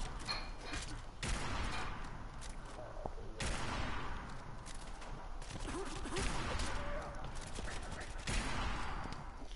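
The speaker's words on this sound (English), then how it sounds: "This is a 50 caliber sniper rifle." Shots from a 50 caliber sniper rifle crack out in a video game, several heavy booms spaced a second or two apart, each followed by a ringing decay, with a voice speaking between them.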